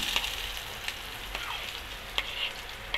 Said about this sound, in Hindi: अब इसमें हमारी जो प्याज कटी हुई है ये भी डाल दी